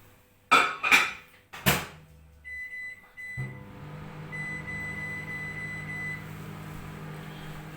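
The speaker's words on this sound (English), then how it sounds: "I'm going to put it in the microwave to heat it up" Dishes clatter as a plate goes into a microwave, the door shuts, a few beeps sound, then a steady motor hum runs on.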